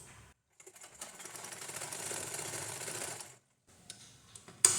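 A sewing machine stitches a lined blouse: a quiet start, then a run of fast, even mechanical whirring for about three seconds, a pause, and a brief restart with a few ticks.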